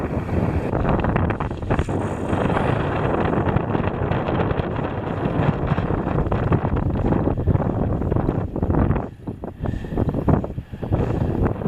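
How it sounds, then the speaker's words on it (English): A crosswind blows across the microphone while someone fishes from a boat, making a loud, continuous rushing roar that dips briefly near the end. "I got a little crosswind here"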